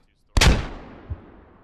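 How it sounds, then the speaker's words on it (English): A grenade explosion in the tactical shooter Squad: one sudden, loud, close blast with a long rumbling decay, then a fainter second thump about a second later. "They're throwing grenades."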